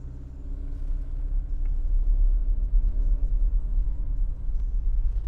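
A Honda BR-V climbing a steep incline as the driver accelerates, its engine giving a steady low rumble and drone heard from inside the cabin, continuous and fairly loud with no talking.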